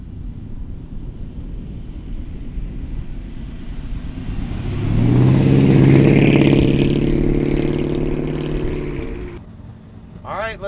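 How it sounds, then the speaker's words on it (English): A 1936 Ford pickup street rod drives along with its exhaust rumbling, swelling louder midway as the engine pulls harder, then easing off, heard from inside the cab. "We're getting those windows down so we can listen to that beautiful exhaust"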